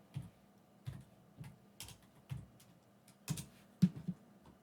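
Keystrokes on a computer keyboard, about eight separate taps at an uneven pace with a double tap near the end, close and fairly quiet with no talking.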